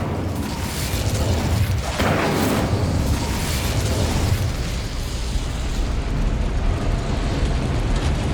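The Incendio fire spell in Hogwarts Legacy, a loud roaring whoosh of flame with a sharp burst near the start, then a steady blazing rumble that holds for several seconds.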